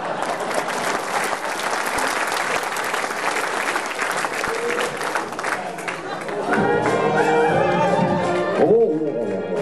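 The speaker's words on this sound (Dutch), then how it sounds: "nou mag je klappen." Loud, dense applause from a concert audience for a carnival concert by a harmony wind band in Bladel, steady clapping throughout before music and singing begin near the end.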